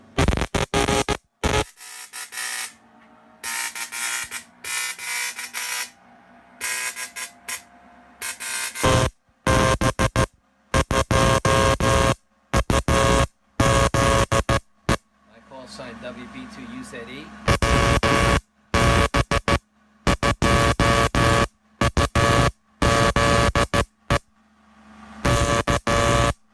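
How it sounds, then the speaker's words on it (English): A 1920s-style spark gap transmitter sends Morse code in loud, harsh buzzing bursts of varying length separated by short silences, with a brief stretch of other radio noise in the middle. "This is the way they used to send Morse code in the 1920s"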